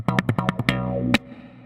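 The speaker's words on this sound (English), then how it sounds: "So what I'd like to do for this demo is run it through an envelope filter," SlapStick N-100 electric percussion run through an envelope filter: five quick plucked slaps with a sweeping wah-like filtered tone, then a single final hit that rings out and decays, loud and alone.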